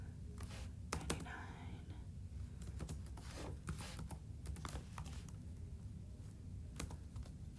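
Faint, quick clicks of typing on a computer keyboard come in short irregular bursts, with soft whispery talk in the background.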